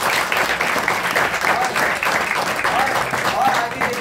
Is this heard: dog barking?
no